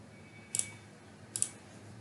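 Two quick clicking keystrokes tap on a computer keyboard, each a crisp double click, soft and close, separated by under a second in an otherwise quiet room.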